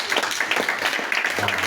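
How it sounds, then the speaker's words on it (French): A church congregation claps and applauds, a dense scatter of near and mid-distance claps filling the short moment, with a faint tone entering near the end. "J'attendais des acclamations pour le Seigneur."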